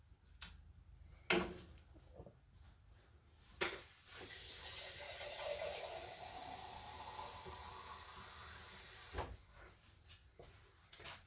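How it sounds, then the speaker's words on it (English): Water poured from a tap or jug into a pot of homemade potato soup, a steady close hiss and rush lasting several seconds, with clatters and clanks before and after. "I'm going to add just a little more water so that we have a little bit more liquid in there."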